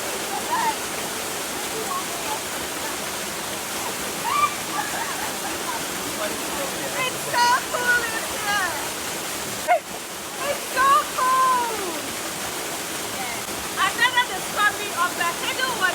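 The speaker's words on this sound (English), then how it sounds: "Of the hidden waterfall in Togo." Hidden waterfall in a Togo rainforest on Mount Kloto, a steady broadband rush of falling water running throughout, with scattered bird calls chirping over it and no talking.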